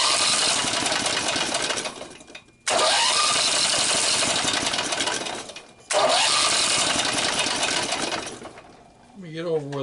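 A small opposed twin engine, timing advanced, cranks and catches three times, each run a loud steady roar that cuts out abruptly before restarting, with the choke partly pulled.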